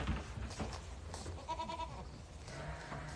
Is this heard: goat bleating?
yes